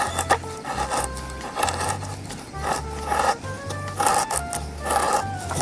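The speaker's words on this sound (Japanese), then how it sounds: "こういうふうに削っていく。" A blade shaves a piece of poor-quality wood at a solo campsite while kindling is prepared for a fire: close, rhythmic scraping strokes repeat about ten times, rasping and steady, with no talking.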